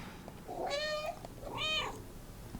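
A cat in the video game Stray meows twice, two clear, drawn-out mews about a second apart, soft but distinct, with no talk over them.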